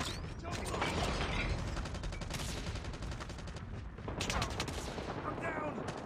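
Sustained automatic gunfire and mechanical clatter from a Call of Duty Mobile match fill the scene loudly and continuously, with a brief dip before bursts resume, and game voice callouts mixed in.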